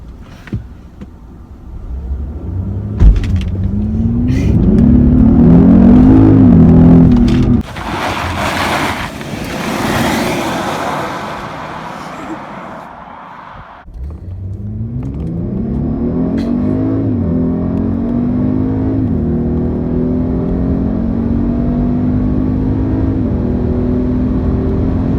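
A 2018 Genesis G80 Sport launched in sport mode, its engine revving hard through rising pitch sweeps, a brief break for a shift, then steady acceleration with heavy wind and road roar, loud and close inside the car.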